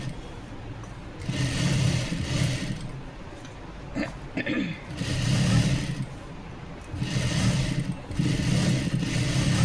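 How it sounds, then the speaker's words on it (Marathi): An electric sewing machine stitches a cover stitch on a blouse in several close bursts of rapid whirring, separated by short pauses with light handling noise. "आणि आता इकडनं एक शिलाई करून घ्यायची आपल्याला ही कवर शिलाई एकदम थोडी एक वरती करायची आहे"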